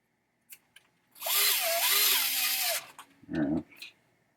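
A power drill drives screws into a 1990 Williams Funhouse pinball trap door, one sustained whirring run and then a shorter burst, close and loud.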